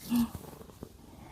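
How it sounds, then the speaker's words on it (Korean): An old cat purrs softly close by, a faint, brief rumble of low pulses with a short louder burst at the start. "골골송이 들리시나?"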